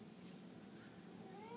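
A pet cat meows close by in an indoor craft studio, a single soft cry over a steady background hum.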